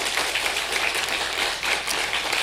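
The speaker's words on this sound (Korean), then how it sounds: "큰 박수로 맞아주시면 감사하겠습니다" A church congregation applauding during a Sunday worship service, dense steady clapping from many hands filling the room evenly for the whole stretch, with no voices over it.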